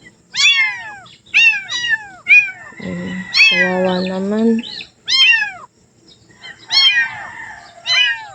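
Abandoned cats meow behind a house, several close, insistent meows coming in repeated bursts with short pauses between them, while someone speaks briefly over them.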